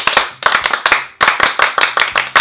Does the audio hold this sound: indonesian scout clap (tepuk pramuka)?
yes